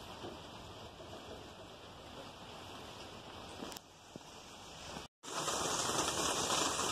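Rain falling outdoors in a garden, a dense steady hiss of drops that briefly drops out near the end before returning louder and fuller, with a faint distant rumble possible underneath.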